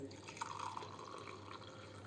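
Cooled boiled liquid for feeding orchids being strained, with soft trickling and dripping that stays faint and steady throughout, with no voices.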